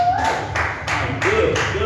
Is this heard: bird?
no